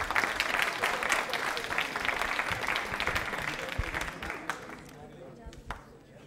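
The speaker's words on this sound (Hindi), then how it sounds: "प्रियंका जी के लिए तालियां जोरों से बजाइए साहब, जोरों से, जोरदार तरीके से तालियां बजती रहनी चाहिए।" Dense audience applause for a contestant on a televised Hindi quiz show, a steady wash of many hands clapping that thins and fades toward the end, with faint talk underneath.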